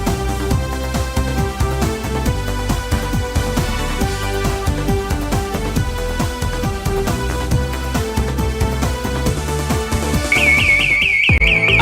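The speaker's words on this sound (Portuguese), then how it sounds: "Apito final." A referee blows the final whistle at the Avaí vs Guarani Série B football match in Brazil: a short, bright trilling whistle near the end, following a long stretch of loud music.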